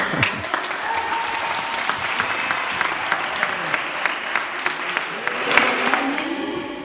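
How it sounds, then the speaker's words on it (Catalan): Warm, sustained applause from a group at a youth sports camp awards event, with individual sharp claps standing out and faint voices mixed in. "fort aplaudiment"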